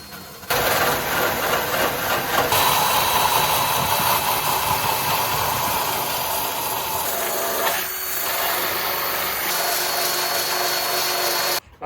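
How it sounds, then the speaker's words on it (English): Drill fitted with a 40-grit sanding disc grinding old wrap off an RX7's body outdoors, a loud, close, continuous abrasive whir with slight changes in pitch, running steadily for about eleven seconds without talk. "we're gonna hit the bad areas with this 40 grit on the drill"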